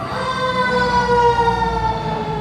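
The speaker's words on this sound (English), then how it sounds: "It's never LA if you don't hear sirens outside." A fire truck siren wails steadily outdoors in Los Angeles, loud and sustained, with layered tones sliding slowly and a low rumble of traffic beneath.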